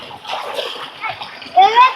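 Water splashes down onto someone's head outdoors in a village during rain, a short burst of splashing with a voice and other talk around it.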